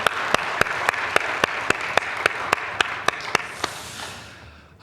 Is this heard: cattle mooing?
no